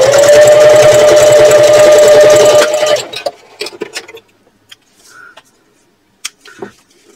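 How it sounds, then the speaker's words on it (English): A sewing machine runs steadily and loudly, stitching a 3/8 inch seam across fabric for a purse, then stops after about three seconds, followed by a few soft handling clicks and rustles. "now I'm going to sew across using a 3/8 inch seam allowance"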